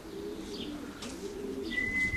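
Racing pigeons arriving at their loft give soft low cooing, with a brief higher chirp near the end, set against quiet outdoor background noise.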